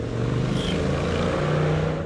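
A very loud motorcycle roars past on a road near a river resort, a thick, rumbling engine drone that stays strong and close throughout.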